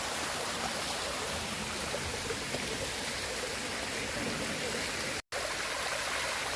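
Steady rushing water of a forest river stream near a high waterfall in Chi Fu, continuous and fairly close, with one brief dropout near the end.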